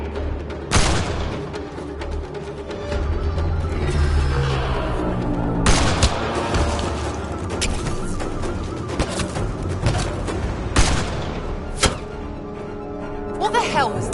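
Gunfire in Mass Effect while shooting at a sniper: sharp, loud shots crack out at irregular intervals over a rumbling battle bed, with voices shouting between them.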